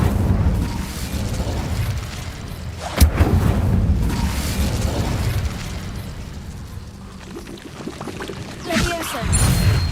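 An Incendio fire spell is cast in the Hogwarts Legacy video game, giving a loud whooshing, crackling burst of flame with a sharp pop near the middle, alongside continuous rumbling game effects and a voice.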